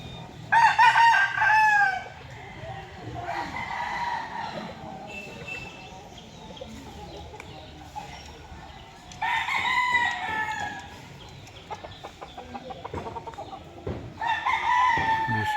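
Roosters crow loudly several times in bursts, with chickens clucking and other farmyard noise filling the gaps between crows, at a poultry-raising yard.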